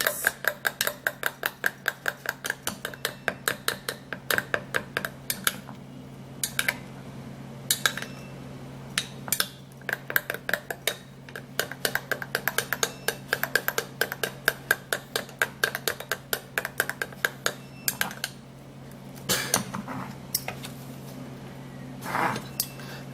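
A spoon whisks an egg white remedy in a bowl, producing rapid, rhythmic clinks and taps against the side in quick bursts, with short pauses between runs over a low steady hum.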